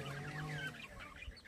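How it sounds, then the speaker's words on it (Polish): Pet budgerigars chirping and chattering in a garden setting, a continuous busy stream of close, bright warbling calls with one louder peak near the end. "Papuszki ćwierkają sobie."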